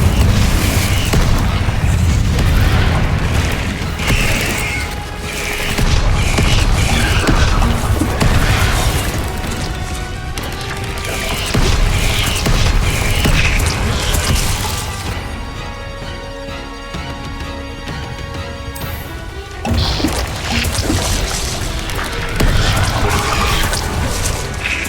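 Repeated Confringo fire-spell blasts from Hogwarts Legacy boom one after another, loud and dense with crashing bursts, then a short quieter stretch with ringing tones before the explosions resume.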